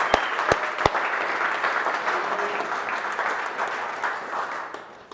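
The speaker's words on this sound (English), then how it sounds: "Nathan, round of applause." A team at a meeting applauds a colleague, opening with a few sharp individual claps before the group's clapping swells into a steady round that tapers off near the end.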